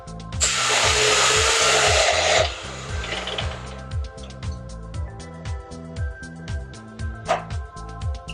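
An electric mixer blends mashed potatoes in a bowl. A loud steady whir runs for about two seconds, then it settles into softer, rhythmic churning thumps, with no talking.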